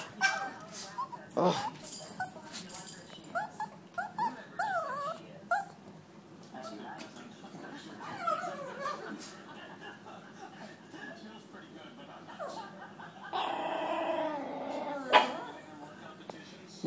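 A dog growls, whimpers and yips in short, uneven bursts across the stretch, with a louder whining flurry near the end. A person talks and chuckles in between.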